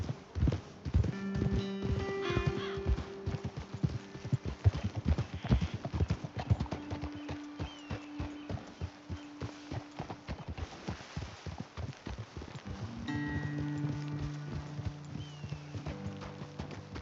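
Horse hooves clip-clop steadily on a trail in the Red Dead Redemption 2 video game, several horses walking close by in a brisk irregular rhythm, with low hums and short snorts, then slowing near the end.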